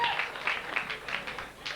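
Audience applause for comedian Dave Grant at a comedy show, a steady wash of many hands clapping with a few cheers, moderately loud and filling the whole stretch.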